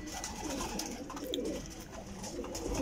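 Domestic pigeons coo softly in a steady, overlapping murmur on a rooftop, with soft rustling and faint background noise throughout.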